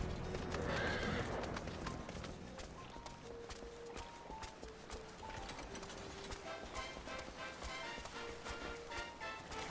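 A horse mount in the video game FFXIV neighs near the start, then its hooves clip-clop steadily under game music and faint effects.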